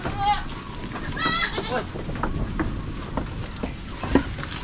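Goats on a farm bleat in short, wavering calls, one near and several fainter, while someone talks over them and scattered rustling and taps fill the background.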